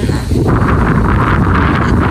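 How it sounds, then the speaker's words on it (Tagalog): Strong wind on an overcast day buffets the microphone in a steady, low roaring rush with gusty flutter, loud and close, with no voices. "Hangin."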